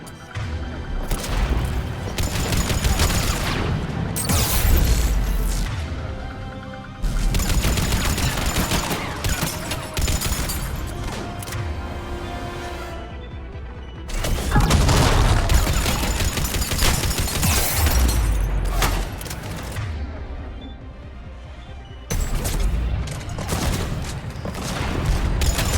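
Heavy, sustained gunfire from Mass Effect 3 comes in long, dense bursts with booming impacts, loud and close. Brief pauses separate the volleys.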